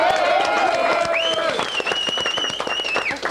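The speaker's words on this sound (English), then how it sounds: "Would you want a round of applause for Sarah, who's actually married?" Studio audience claps in a quick burst on a radio show, dense scattered hand claps at steady loudness with a voice rising and sweeping in tone over them.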